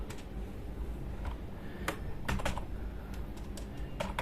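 Code being typed on a computer keyboard, a steady run of quiet key clicks with a few louder, sharper strikes, close and alone over faint background hiss.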